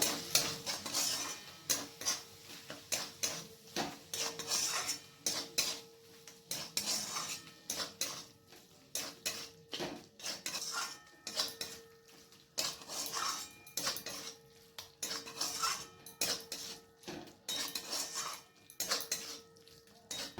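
Mutton with coriander powder, Kashmiri red chilli and chana masala being mixed in a pan for kabuli chana curry, with repeated rhythmic metal spoon scrapes and clinks over a quiet background, no voices.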